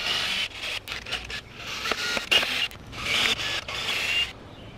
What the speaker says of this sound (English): And then I'll just run the screws in